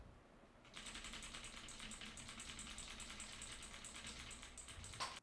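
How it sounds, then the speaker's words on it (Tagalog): Someone types on a computer keyboard recorded with a Fifine AM8 USB microphone, producing a steady, fast, close clatter of keystrokes that begins after a short quiet pause and ends with one sharper tap. "keyboard test tayo"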